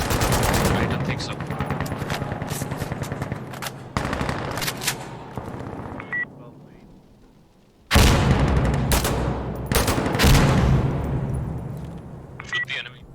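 Rapid automatic gunfire rattles in dense bursts during an Insurgency Sandstorm match, with loud sustained volleys, a brief lull, then a heavy renewed barrage, and sharp metallic clicks in between.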